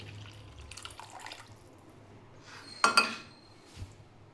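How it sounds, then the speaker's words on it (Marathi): Half a bowl of water is poured into milk for mango sheera: soft handling sounds, then a short clear splash with a metallic clink, and one more faint knock afterward. "पाणी दुधामध्ये टाकायचं आहे।"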